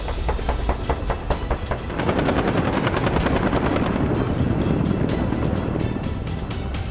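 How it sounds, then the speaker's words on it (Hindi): An AH-64E Apache attack helicopter sounds loud and close, its rotor giving a rapid, rhythmic chopping pulse over a dense roar that thickens partway through, with no talking. "दुनिया का सबसे आधुनिक अटैक हेलीकॉप्टर।"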